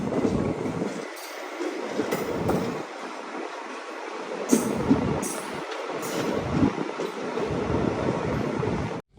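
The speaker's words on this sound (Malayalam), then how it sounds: "ട്രെയിൻ അങ്ങനെ ഇതാ ഉദയ്പൂർ റെയിൽവേ സ്റ്റേഷനിലേക്ക് എത്തിക്കൊണ്ടിരിക്കുകയാണ്." A train rolls into Udaipur railway station in Tripura, its wheels rumbling and clattering steadily over the rails with a few sharper clanks and squeals, loud and close throughout.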